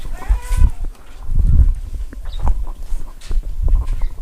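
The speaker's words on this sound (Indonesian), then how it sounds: "Itu yang belakang kambing apa itu? Jantan juga?" Goats, including a buck, at an Indonesian goat breeding farm, with animal movement, shuffling and soft low calls repeating in bursts nearby amid rustling farmyard noise.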